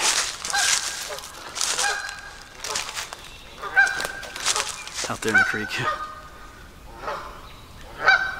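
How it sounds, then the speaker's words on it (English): Several geese honk loudly and repeatedly at close range along the Union Canal, harsh overlapping calls in bursts, with someone briefly speaking between them. "Making some geese unhappy with me."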